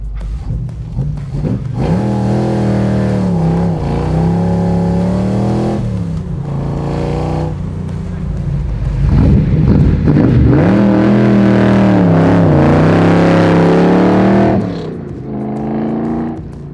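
DeTomaso Pantera fitted with a widebody GT4 kit pulling away hard: a loud, close engine roar that climbs in pitch through each gear, dips at the shifts, and fades slightly at the end.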